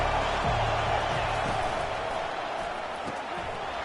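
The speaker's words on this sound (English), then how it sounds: "This crowd bringing the energy and noise early." Stadium crowd in the College Football 25 video game at Virginia Tech versus Miami, a steady, dense roar of noise sustained throughout, with a few dull thumps beneath it.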